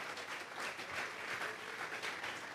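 A church congregation claps during a sermon, a dense, steady patter of many hands filling the whole moment at moderate loudness with no voices over it.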